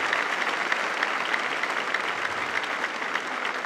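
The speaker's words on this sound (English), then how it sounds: "let's give him a round of applause and give the hockey team a round" An awards-night audience claps steadily and loudly for the hockey team, a dense, even wash of applause with no voices over it.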